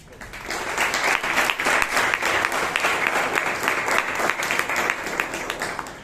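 Sustained applause from a Toastmasters meeting audience in Bangalore, many hands clapping steadily for several seconds, fairly close and loud.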